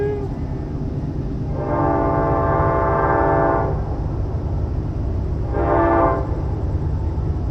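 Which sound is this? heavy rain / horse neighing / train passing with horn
train passing with horn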